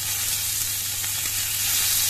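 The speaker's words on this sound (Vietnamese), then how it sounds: "cho nên mình rán ít dầu như này để khi mà ăn thì nó giảm bớt đi dầu mỡ đi" Crucian carp frying in a small amount of oil, a dense, steady, close-up sizzle that carries on evenly throughout, with no talking.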